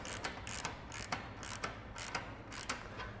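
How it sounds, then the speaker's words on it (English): A ratchet wrench tightening the fuel tank bolts on a Janus 250 motorcycle gives quick bursts of metallic clicking, about six evenly spaced strokes close at hand with no voices. "we'll start tightening the 2 fronts and then the 2 rears"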